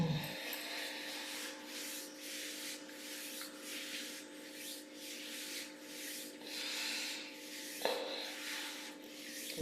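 A hand rubs across a chest in slow, continuous strokes, making soft, close brushing swishes that rise and fall in a regular rhythm, with no talk.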